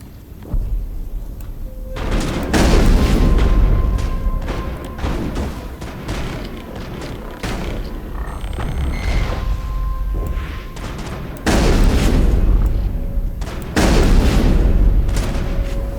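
A sniper rifle fires during a firefight in the Mass Effect game, several heavy, booming shots striking at intervals amid rumbling explosions and battle noise, with brief talk in between.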